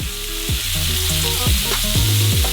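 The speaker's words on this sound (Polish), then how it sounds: "Dodajemy olej, podsmażamy milioną wołowinę, rozbijamy ją łopatką, aby nie smażyła się jak solidny pulacek." Ground beef sizzles loudly in oil in a frying pan, a constant crackling hiss broken by several scraping strokes as the meat is broken up with a spatula.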